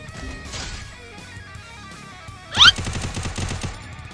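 Gunfire from the video game Free Fire: after a quieter stretch, a sharp, loud shot bursts out and turns into a rapid run of automatic fire that continues to the end.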